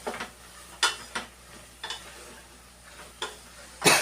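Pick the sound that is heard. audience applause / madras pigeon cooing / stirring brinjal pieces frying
stirring brinjal pieces frying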